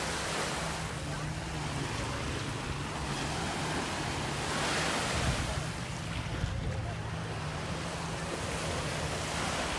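Steady broadband wash of surf at JBR beach in Dubai, continuous and fairly loud, with wind buffeting the microphone and a low hum underneath.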